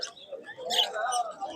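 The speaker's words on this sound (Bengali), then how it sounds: "প্রচুর পরিমাণে কিন্তু বাজিগার রয়েছে, আপনারা নিতে পারেন।" Budgerigars at an outdoor bird market in Uluberia give quick, high chirps and twitters in a short burst, close by and fairly loud.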